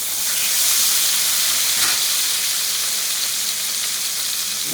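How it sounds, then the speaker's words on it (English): Burgers, previously baked in the oven, sear in a hot pan with a steady, loud sizzle and hiss that runs unbroken throughout, with no voices. "They've been baking, and I'm now going to put them and sear them."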